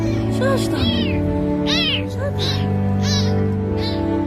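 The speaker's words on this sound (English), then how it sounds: "This poor little kitten was all alone" A small rescued kitten found all alone gives several high, thin meows in quick succession, close and clear, over a steady background hum.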